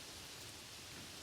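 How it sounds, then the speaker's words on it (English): Rain falling on a tin roof gives a steady, dense hiss of drops with no pauses, soft and even throughout. "Only the sound of rain filled the space between them."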